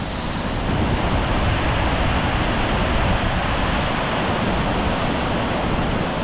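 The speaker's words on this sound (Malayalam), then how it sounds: "ഈ വെള്ളം കുത്തിച്ചാടുന്നില്ലേ അവിടെ വലിയൊരു കുഴിയാണേ" A waterfall crashes down into a deep pool in a river, a steady, loud, unbroken roar of rushing water that fills the whole moment with no voices.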